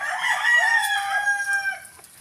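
A Texas gamecock rooster crows once, close and loud, in a drawn-out rising and falling call lasting about two seconds on a rural farm in Sibonga, Cebu.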